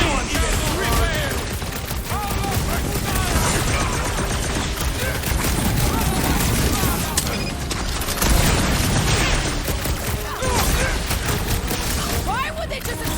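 Rapid bursts of gunfire crackle through a sci-fi film shootout in Guardians of the Galaxy, dense and loud over about thirteen seconds, mixed with booms and clattering impacts while voices speak over the action.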